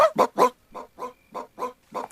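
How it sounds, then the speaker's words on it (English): A rapid series of eight short, abrupt hiccup-like yelps from an animal, evenly spaced, the first three louder and the rest slightly softer. "He's just got hiccups"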